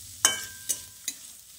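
Onions fry in a pan, with three quick scraping stirs of a spatula standing out over a faint background sizzle.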